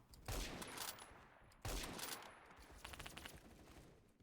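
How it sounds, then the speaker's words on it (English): Bursts of rapid automatic rifle fire crackle in the Phantom Forces video game, two long volleys starting sharply, then a stuttering run of quicker shots near the end, loud and with no talk. "Where am I being shot from?"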